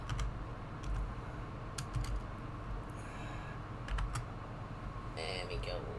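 Scattered keystrokes on a computer keyboard make sharp clicks in short irregular bursts over a low background hum, fairly close but not loud.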